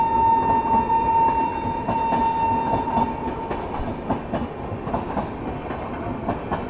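Sealdah–Anand Vihar Sampark Kranti Express overtaking on an adjacent track: a loud, steady rumble of wheels with clickety-clack joints, a sustained horn tone early on, then a fading rolling clatter.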